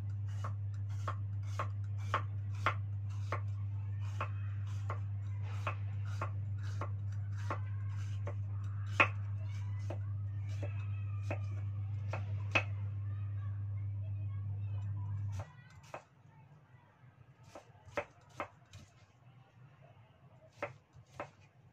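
Cucumber and carrot being sliced for acar pickle, a steady run of crisp knife chops on a board, roughly twenty evenly paced cuts, with a low steady hum under the first part and then a few scattered chops.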